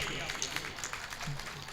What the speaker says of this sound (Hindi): तालियां बजनी चाहिए आप लोगों की।